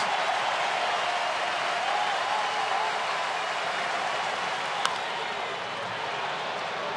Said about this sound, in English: The crowd will tell you the result.